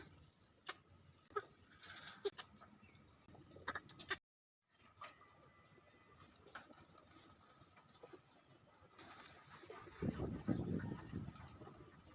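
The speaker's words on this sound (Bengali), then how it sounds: "কবুতর" A pigeon perched outdoors in the rain gives soft, faint cooing calls in short spaced bursts over quiet background hiss, with a brief dropout midway.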